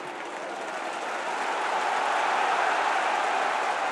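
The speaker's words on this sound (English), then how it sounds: "Home crowd are energised here." A home crowd applauds and cheers at a Sheffield United versus Charlton Athletic football match, a dense, steady roar of clapping that swells slightly and holds loud throughout.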